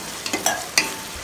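Onions sautéing in oil for chicken biryani, with a brief low sizzle under a few quick spoon clinks and scrapes in the pan.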